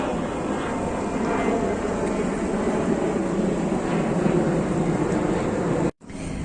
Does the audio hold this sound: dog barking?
no